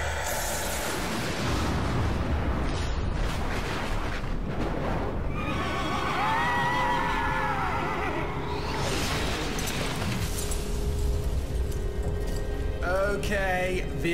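A horse neighs and whinnies in the video game Shadows of the Damned, loud over a dense game soundscape with hoof clip-clops and rumbling effects, and a second whinny near the end.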